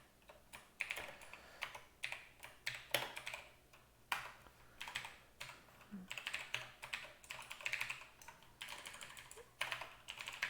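Steady bursts of typing on a computer keyboard during a coding session, close and clear with quick uneven key clicks, alone without talk.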